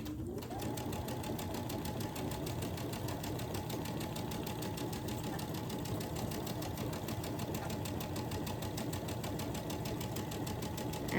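A sewing machine runs steadily for a long stretch, stitching the long-side seam of a quilt block with a fast, even, motor-driven rattle that stays close and alone.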